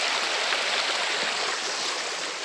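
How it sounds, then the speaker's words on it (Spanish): River water rushes in a continuous, loud, close hiss, steady and unbroken throughout with no voices. "Quiero que escuchen el sonido del río, muy hermoso."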